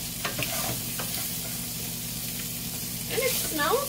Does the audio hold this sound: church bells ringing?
no